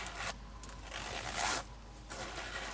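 A zipper on a pocket of a leather clothing garment is pulled open in short, close rasping bursts, with quieter gaps between the pulls.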